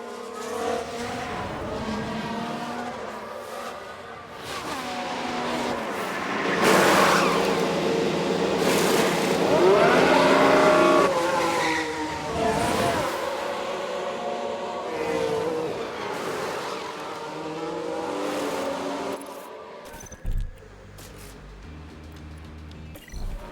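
Race cars in the F1 Manager 22 video game, with an Alfa Romeo involved, spinning out: a steady, loud roar of engines revving and passing with skidding tones, easing off near the end before a few sharp clicks.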